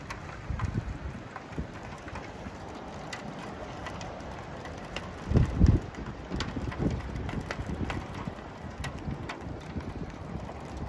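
Hail clattering steadily on a surface in Sochi in winter, a dense crackling patter with gusty wind noise and a brief louder burst midway.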